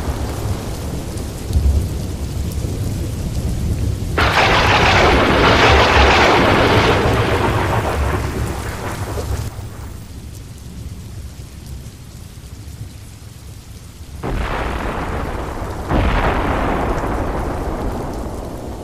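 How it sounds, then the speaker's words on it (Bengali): Heavy rain pours down in a thunderstorm, a loud continuous hiss that swells in two strong bursts, with low thunder rumbling underneath and no voices. "বৃষ্টি পড়ছে"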